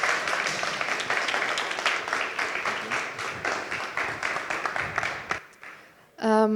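Audience applause at a startup showcase session, steady crowd clapping for about five seconds that fades out, followed by a short burst of electronic tones.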